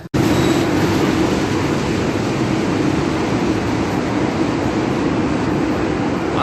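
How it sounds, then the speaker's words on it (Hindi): Bandra–Jammu Tawi–Patna express train arriving at a night-time railway platform, a loud, steady rumble and roar of rolling wheels and carriages that holds throughout. "आप सामने देख रहे हैं बांद्रा जम्मू तवी पटना, ये ट्रेन आ रही है"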